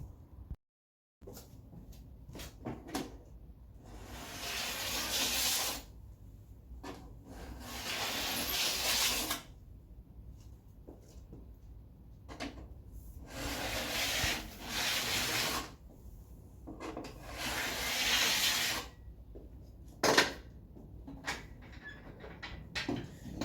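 Metal file drawn along the steel edge of a snowboard to sharpen it, a series of rasping, scraping strokes in bursts with short pauses between, close up and moderately loud, with no talking.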